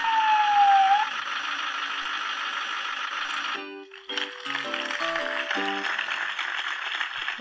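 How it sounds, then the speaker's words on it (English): A fire engine siren from a preschool music game app wails steadily for several seconds. Simple toy-like melodic tones then play over the continuing siren. "Let's hear the sound of a fire engine."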